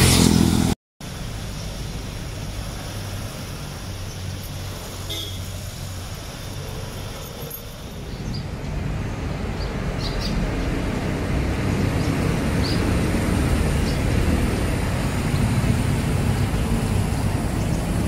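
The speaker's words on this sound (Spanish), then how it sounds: "Ingay ng motor, no?" Motorcycles and cars pass on a national highway by the San Juan church in La Union, a continuous rushing traffic drone that swells louder in the second half after a brief cut near the start.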